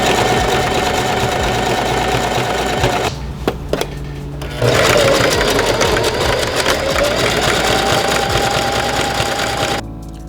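A sewing machine stitching sweatpants fabric runs in a steady, fast mechanical whirr, close and loud, stopping briefly midway with a few clicks before resuming and then cutting off at the end.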